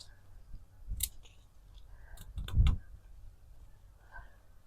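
Garden scissors cutting back plants in a front flower bed of peonies, lavender, allium and irises, giving a few faint, separate snips and rustles in a quiet outdoor setting.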